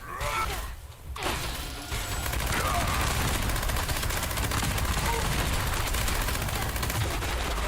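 In Fallout 76, cannon fire hits the player as a dense, loud barrage of blasts and crashing impacts that starts after a brief lull and continues without a break.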